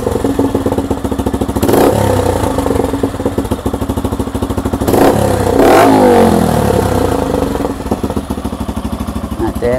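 A Suzuki Gixxer 155 motorcycle with a full exhaust system idles with a fast, steady putter, then revs sharply twice in loud, close bursts before settling back to idle.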